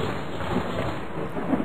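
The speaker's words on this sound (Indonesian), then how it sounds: "Dan sebentar lagi akan turun hujan." Thunder gives a continuous low rumble blended with a steady hiss of rain as the rain approaches, even in level throughout, with no voices.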